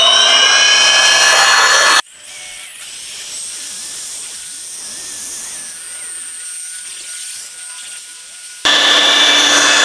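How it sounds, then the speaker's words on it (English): A polishing buffer spins on a car's rough clearcoat as orange peel is polished out, a loud, steady whirring drone that drops in level partway through and comes back at full strength at the end, with no talking over it. "That buffer's spinning away from the edge."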